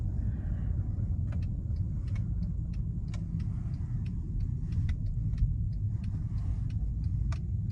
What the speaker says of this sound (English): This V6, and the transmission shifts just as it should.